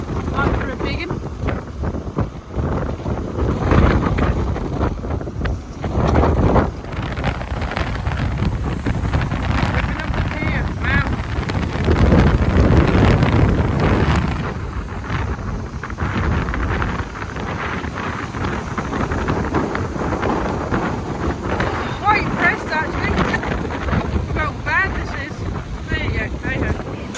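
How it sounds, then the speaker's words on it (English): Strong gusty wind on Blackpool seafront buffets the microphone as a steady, loud roar with surging gusts, waves and surf churning beneath throughout, no one speaking. "another windy day in Blackpool now"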